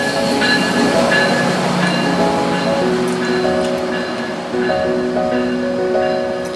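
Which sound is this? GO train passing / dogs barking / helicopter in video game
GO train passing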